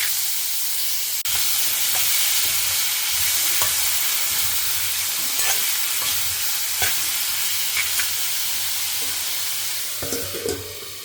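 Radish and asafoetida sauté in a pan with a steady, close sizzle and hiss, and faint stirring clicks now and then. No voices are heard.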